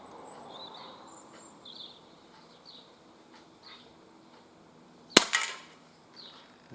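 One sharp, loud crack of a Umarex S&W M&P45 2.0 CO2 pistol fired outdoors on a breezy day at a can. It stands alone against faint wind and insect buzz, with a short ringing tail.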